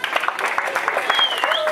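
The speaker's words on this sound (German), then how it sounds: "einen ganz dicken Applaus für Lukas," Applause breaks out at a school triathlon award ceremony, a brief burst of crowd clapping mixed with voices and a faint whistle-like tone.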